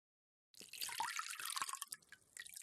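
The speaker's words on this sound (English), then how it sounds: "Rinse and dry your feet." Water splashes and runs steadily as feet are rinsed after a foot soak, a close, continuous wash of liquid that starts abruptly and carries on at moderate level with small surges.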